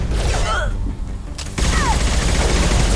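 Rifle fire in the video game Mass Effect 2, with a dense burst of sharp shots that drops out briefly and then resumes, loud and close among other game sounds.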